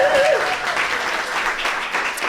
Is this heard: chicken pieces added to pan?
no